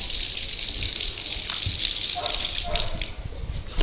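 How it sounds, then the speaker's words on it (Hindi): Water runs from an open tap in a home in Nigeria, a steady hissing gush that holds loud and even before tapering and breaking up near the end as the tap is closed. "सही से बंद करो, पानी गिर रहा है बेटा।"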